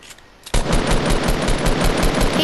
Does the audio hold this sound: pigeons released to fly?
no